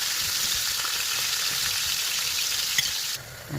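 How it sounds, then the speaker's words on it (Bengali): Koi fish frying in hot oil in a wok, a dense, steady sizzle and crackle that holds close and loud throughout, with a faint scrape or stir as it eases near the end. "কই মাছগুলো ভেজে নেব প্রথমে"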